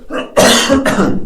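A single loud, close cough, a short throaty burst followed by a second rougher push, like clearing the throat.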